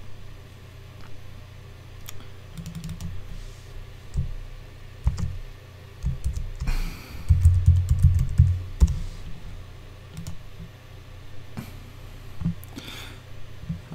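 A computer mouse clicks during a WordPress install on a web hosting setup, scattered sharp clicks spread across the stretch with a denser cluster of clicks and rattles midway, close and fairly loud over a faint hum.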